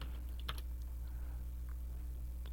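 Computer keyboard keys pressed in a few quick clicks, a short cluster early and a lone tap near the end, crisp and close over a low steady hum, with no talk.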